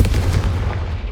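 Confringo fire spell explosion in the video game Hogwarts Legacy: a loud, close, booming blast with a heavy low-end thump that rolls off and decays over about a second.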